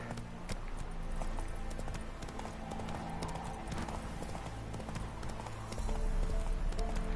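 Horse hooves clip-clopping in a steady trotting rhythm in The Witcher 3, close and clear over game ambience, with faint talk under it.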